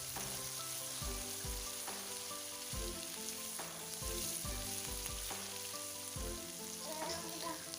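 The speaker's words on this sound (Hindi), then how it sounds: "तमाम कोफ्ते हमने निकाल लिए और प्याज हमारे अच्छी तरह ब्राउन हो चुके हैं।" Onions sizzle and fry steadily in a pan while cooking matar kofta curry, a dense crackling hiss with occasional spatters and light stirring knocks, close and continuous with no talking.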